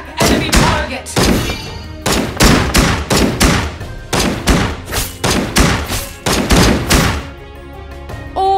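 Rapid bursts of video game gunfire from Legend of Ace, loud and close, come in repeated volleys with short gaps between them, and a brief voice line sits among the shots.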